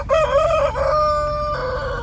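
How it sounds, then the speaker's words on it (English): A rooster, one of dozens kept on a rooftop deck in the Amazon, crows loudly and close at dawn with one long, drawn-out call that holds steady, then trails into a second overlapping crow. "A rude awakening, along with the dozens of roosters kept atop the roof deck,"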